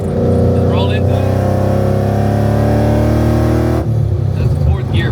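A 700 hp Ford Mustang accelerating in fourth gear, its loud engine note climbing steadily for several seconds before a sudden drop as the throttle lifts, heard close from inside the car.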